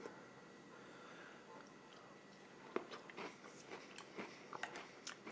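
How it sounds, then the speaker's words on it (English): Someone eats crackers with MRE beef stew, producing faint, close crunchy bites and chewing that grow more frequent in the second half, with no talk. "Just eat a couple crackers with it"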